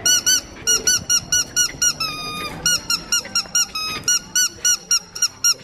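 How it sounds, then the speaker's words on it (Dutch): Rubber squeaker inside a rugby-ball dog toy squeezed repeatedly, giving a rapid run of sharp, loud, close squeaks in uneven bursts with brief pauses between them. "En er zit ook een piepje in. Kijk."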